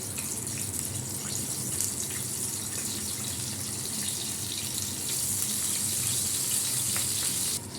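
Eggplant pieces frying in hot oil: a dense, even hiss and crackle that holds steady throughout and sits close, with no talk.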